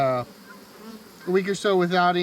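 Honeybees buzzing at a hive hum in loud bursts, a droning tone that swells and fades, then returns stronger near the end.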